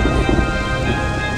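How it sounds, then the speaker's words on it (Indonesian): Steady heavy rain pours with a continuous rumble of thunder underneath, a dense, loud wash of sound filling the whole stretch without a break and no voices. "Pak, hujan Pak."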